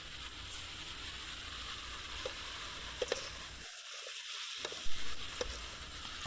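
Pepper chicken pieces frying in a pan, a steady close sizzle with faint crackles and a few soft clicks of stirring, briefly dropping out for a moment.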